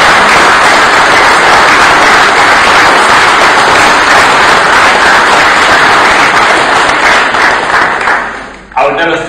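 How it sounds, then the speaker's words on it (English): Audience applause after a talk on organised religion and human rights, a loud, sustained wash of clapping that stays level throughout, then drops away abruptly near the end. "will you please give another big round of applause?"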